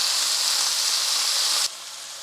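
Sausages sizzling and browning in a pot, a steady close hiss of frying fat that suddenly drops to a quieter sizzle near the end.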